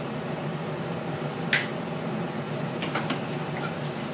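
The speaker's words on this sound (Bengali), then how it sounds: "এই যে কালো জিরে ফোড়নে দিয়ে দিচ্ছি।" Nigella seeds tempering in hot oil for a prawn curry give a steady, soft sizzle that runs the whole time, with one sharper crackle partway through.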